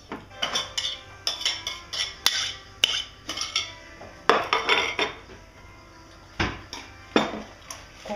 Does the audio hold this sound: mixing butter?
yes